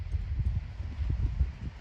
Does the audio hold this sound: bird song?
no